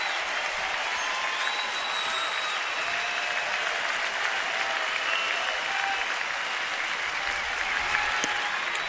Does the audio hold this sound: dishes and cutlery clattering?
no